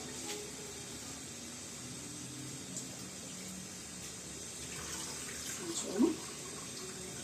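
Water runs from a tap while something is rinsed in it. The faint, steady trickle is low in the background, with a brief quiet voice near the end.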